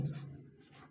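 Pen writing answers by hand on paper for a class 10 science question, a brief, soft, close scratching stroke with no talk.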